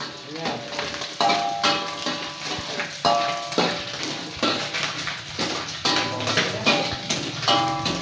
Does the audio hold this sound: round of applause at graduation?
no